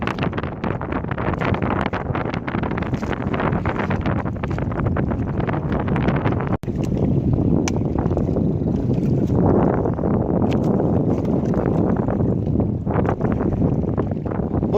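Wind and waves at sea beside a small fishing boat, with strong gusts buffeting the microphone and a continuous rough wash of water, loud and close throughout.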